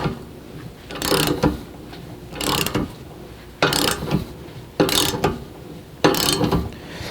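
Lug nut on a Jeep JL Wrangler tire carrier being tightened by hand with a 13/16 socket and ratchet, giving five loud, close bursts of rapid ratchet clicking at fairly even intervals.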